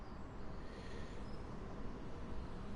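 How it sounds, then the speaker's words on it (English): A distant train on the Medway Valley Line in Train Sim World 6 rumbles with a broad, steady low roar and a faint high squeal, continuous and far off. "Can hear another train in the distance"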